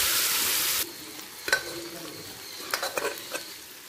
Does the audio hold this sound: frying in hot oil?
yes